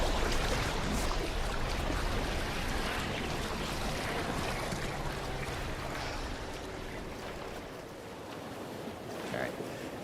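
Open ocean water in BioShock after a plane crash, a continuous loud wash of waves and churning surf mixed with wind rumble, steady throughout with slight easing toward the end.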